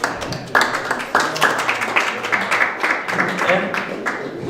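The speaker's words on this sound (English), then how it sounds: "Round of applause to them." Claps from an audience at a rights and democracy rally, uneven bursts of hand clapping that start and restart in clusters, moderately loud with some crowd murmur beneath.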